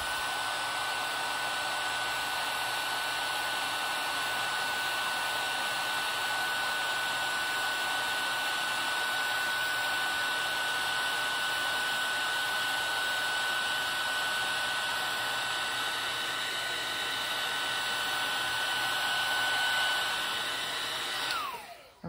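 A heat tool blows steadily over embossing powder on a recycled faux cloisonné craft piece, a loud, even hot-air whir with a faint high whine that runs without a break and cuts off at the very end.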